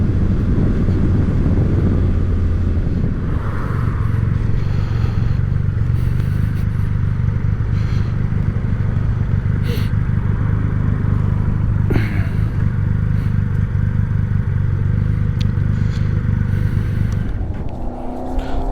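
A Triumph Rocket 3R motorcycle cruises on wet, slippery roads, its deep engine drone steady and loud beneath continuous wind rush and tire hiss from the damp surface.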